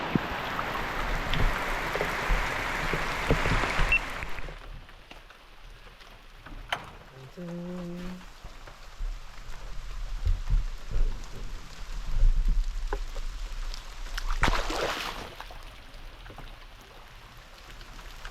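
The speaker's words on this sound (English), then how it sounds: "it is absolutely pouring rain" Heavy pouring rain falls outdoors at a saltwater crocodile feeding, a steady hissing wash of drops that is loudest at first and then continues more softly, with scattered knocks, a brief tone and faint voices in the background.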